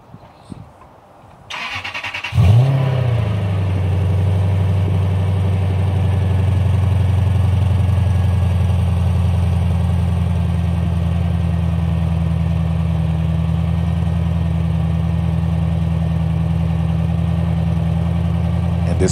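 A Lexus GS430 with a 3UZ-FE V8, catalytic converter and both mufflers removed, starts up in a parking lot and settles into a loud, steady, rumbling idle. The engine runs close by and alone for the rest of the clip.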